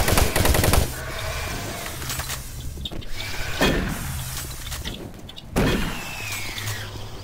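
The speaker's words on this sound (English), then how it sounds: "shooting through the windows" Gunfire through windows in the video game Doom 3, several bursts of rapid shots separated by short pauses, with mechanical clanks and ambient game hum between them.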